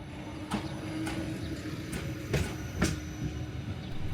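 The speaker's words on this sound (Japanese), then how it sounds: "列車が走り去る瞬間を鉄オタのように待ち構えていたところ、ついに動き出しました" A green train pulls away from a station platform in South Korea, with a steady low rumble and repeated rhythmic clacks of wheels on rail joints, fairly close, with no talk.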